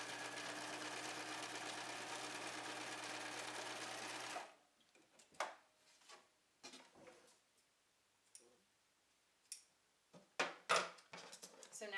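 A sewing machine stitching a bag lining runs steadily and quietly for about four seconds, then stops, leaving scattered small clicks and handling noises.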